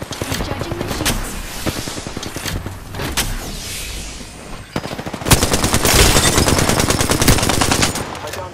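Rapid automatic gunfire in the Apex Legends battle royale game, dense bursts of shots rattling continuously, with a heavier, louder barrage in the second half and faint voice lines in the mix.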